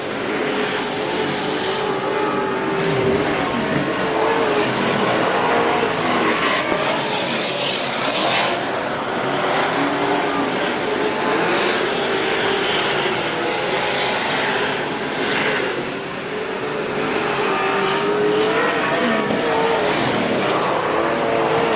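Speedway race cars racing around a dirt track, a loud continuous roar of several engines revving and droning together, with passes swelling and fading throughout.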